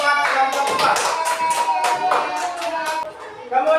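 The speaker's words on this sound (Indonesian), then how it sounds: "Tepuk tangan buat kelompok" Children in a classroom clap for a group of classmates, quick uneven bursts of hand claps, fairly close and moderately loud, with young voices chattering and calling out among them.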